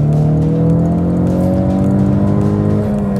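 A 2022 Ford Mustang EcoBoost accelerating hard, its engine note climbing steadily in pitch as revs build, loud and close throughout with no talking.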